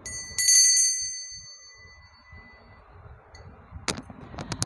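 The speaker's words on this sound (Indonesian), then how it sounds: "saya akan memulai ramalan ditandai dengan lonceng berbunyi." A small, bright bell rings in a quick cluster of strikes, its clear tone lingering and fading, followed by soft rustling and a few light clicks.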